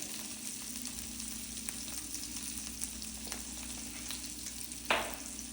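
Already-baked potatoes seasoned with paprika crisp in a hot pan, giving a soft, even sizzle with a few light stirring taps and one sharper scrape near the end, no voices.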